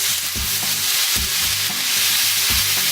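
Steak sears in bacon grease in a hot pan with a loud, constant crackling sizzle, punctuated by a few rhythmic scraping strokes, close and alone.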